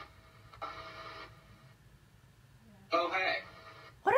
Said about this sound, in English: Yeah, what in the heck is that crunching?